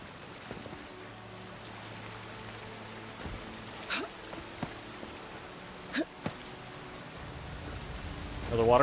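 Waterfall in the game Avowed, a steady hiss of falling water with scattered clicks and soft thuds, swelling louder toward the end.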